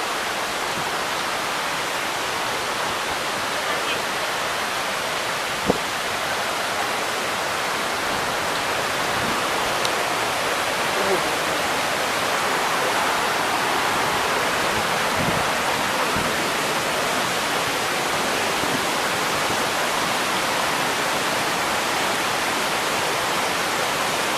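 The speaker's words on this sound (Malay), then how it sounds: "Tengok ni, dia air jatuh ke bawah." Water plunging over Kuang Si waterfall in Laos makes a steady, dense broadband rush that fills the whole stretch without letup, with a few faint clicks scattered through it.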